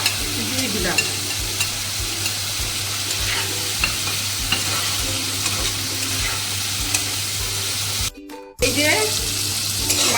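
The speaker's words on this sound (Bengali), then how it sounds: "এবার এটা ভালো করে কষিয়ে নেব এই যে মশলাটা দিয়ে তেল বেরিয়ে যাচ্ছে" Spice paste for a tangra fish curry fries and sizzles in oil while being stirred, a close, continuous crackle with scraping strokes and a brief break near the end.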